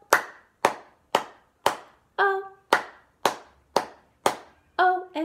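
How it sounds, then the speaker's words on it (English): Hands clapping four times in a steady rhythm during a sing-along of the children's Bingo song, each clap sharp and close, with brief sung tones between claps. "This time we clap four times."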